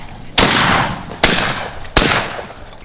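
Three loud, sharp shotgun blasts ring out during a duck hunt in Idaho, spaced under a second apart, each trailing off in a broad echoing decay across open marsh.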